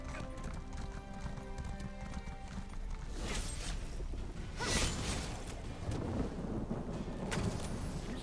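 Horse hooves clip-clopping at a steady riding pace in the online game Elder Scrolls Online, a continuous rhythmic trot under game music and ambient whooshes, moderately loud.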